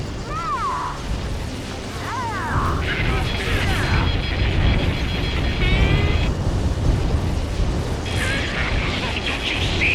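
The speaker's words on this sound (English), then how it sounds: "Confirming explosions. The rail cannon's been destroyed." A destroyed rail cannon explodes in Ace Combat 7, a continuous heavy rumble of blasts and burning debris under radio voices and tonal effects.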